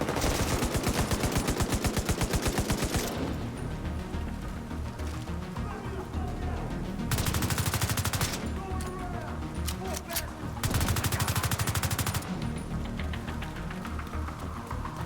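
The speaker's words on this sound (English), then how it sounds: "I hear gunfire." Rapid automatic gunfire in sustained bursts in the video game The Division 2, with scattered shots and quieter stretches in between, while a voice talks over it.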